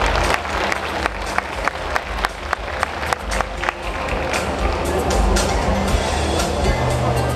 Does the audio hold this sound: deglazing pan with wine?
no